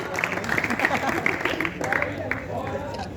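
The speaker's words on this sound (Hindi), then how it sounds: "तालियां बजनी चाहिए" Applause at a district basketball tournament closing ceremony, a crowd clapping steadily with scattered sharper claps and background chatter mixed in.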